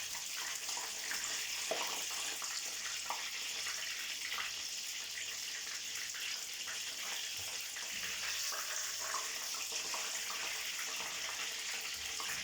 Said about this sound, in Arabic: كي تحطوه في الزيت تزير عليه صافي ما يتسكت